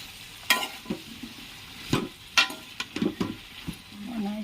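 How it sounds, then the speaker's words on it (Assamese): Eggplant, potatoes and beans frying together in a pan with repeated stirring scrapes and a soft sizzle, close by, in several short bursts across a home kitchen. "বেঙেনা আলু উৰহি ভাজি"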